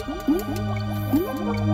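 Water splashing and dripping sounds in the SNES game Donkey Kong Country on an icy glacier stage, a rapid run of bubbly rising blips over game music, loud and close.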